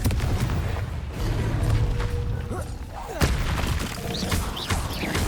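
Blasting spell explosions in Hogwarts Legacy, a run of booming, crackling bursts with several sharp hits, mixed with game effects and a voice in the background.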